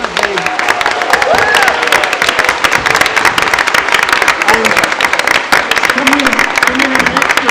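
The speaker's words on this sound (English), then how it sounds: "can we have a big cheer for the winning team, please?" Audience at a university quiz show festival cheering and applauding the winning team: dense, loud, sustained clapping from a large crowd, steady throughout, with a voice speaking over it.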